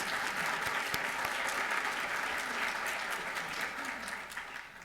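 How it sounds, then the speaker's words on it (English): An audience applauds award-winning farmers honoured with a Maryland conservation award in Frederick County, a steady even patter of many hands at moderate distance that fades slightly at the end. "So I think they deserve a big round of applause for all their efforts."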